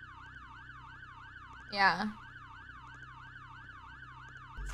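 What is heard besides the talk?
siren in Roblox Brookhaven video game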